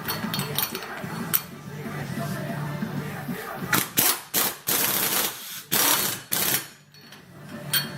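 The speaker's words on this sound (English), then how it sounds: "we get the rattle gun onto it" Air impact wrench working on a car's front lower control arm bolt, loud close bursts of rattling hammering in short repeated pulses after a stretch of lower workshop noise.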